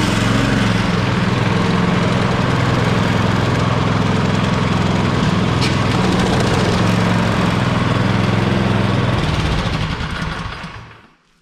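A Troy-Bilt Squall 2100 snowblower engine runs close by with a loud, steady buzzing chug that holds for about nine seconds, then winds down and dies out.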